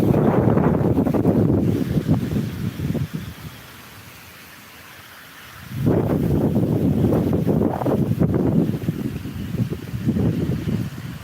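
Strong wind gusting across open farmland in rural Thailand, a loud continuous rushing roar that buffets the microphone, dropping away briefly to near calm before surging back at full force.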